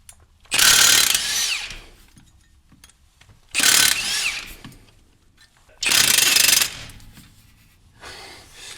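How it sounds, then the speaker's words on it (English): An Acura Legend's drive plate bolts are loosened with an impact tool while a 1/2-inch extension holds the plate still; three loud rattling bursts of about a second each come close up, separated by quieter pauses. "I got this 1/2-inch extension shoved in there to keep it from spinning as we loosen up these bolts."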